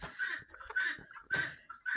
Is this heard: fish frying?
no